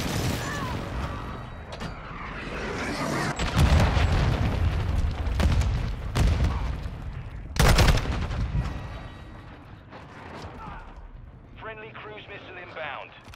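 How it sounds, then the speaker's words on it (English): Modern Warfare 2 multiplayer match: airstrike and cruise missile explosions boom loudly amid bursts of gunfire, with voices talking over the chaos. "Friendly cruise missile approaching target."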